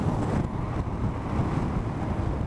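Heavy wind buffeting while riding a motorcycle on the highway, a continuous loud roaring rush with no breaks and no talking.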